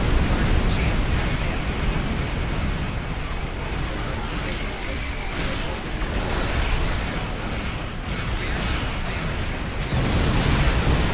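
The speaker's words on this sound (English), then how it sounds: "Send a few aft torpedoes after him." Torpedoes fire and explode in the space combat game Star Trek Online, a dense, continuous roar of blasts and booming bursts that stays loud throughout.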